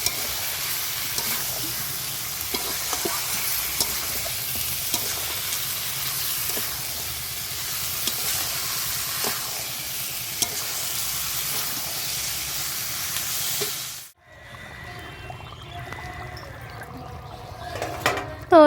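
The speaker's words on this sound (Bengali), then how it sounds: "এই যে মাংসটা বসিয়ে দিয়েছি" Meat curry simmers in a pan with a steady, close hiss and sizzle for most of its length, then drops to a quieter bubbling with faint clinks near the end.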